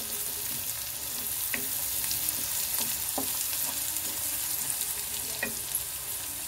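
Onions frying in a pan while being stirred, a steady, close sizzle broken by a few light scrapes and taps of the utensil against the pan.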